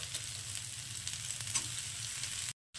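Long-sliced onions sizzle with bitter gourd in a hot pan, giving a steady, close frying hiss. Faint stirring taps sound briefly before the sound cuts off.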